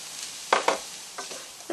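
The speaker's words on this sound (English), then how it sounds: "we're going to sprinkle our flour in, and we're going to cook that for a couple minutes" Flour stirred into a pan with tomato paste for a steak and ale pie filling, giving a soft steady sizzle with a few brief scraping stir strokes, close and fairly quiet.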